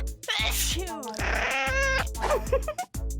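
A cat meows repeatedly in a video game, several drawn-out, pitch-bending calls in quick succession with a steady electronic hum underneath and no talking.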